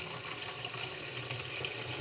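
Water pours steadily from a kitchen faucet into a sink, a continuous close splashing rush that holds for two seconds with no talk over it.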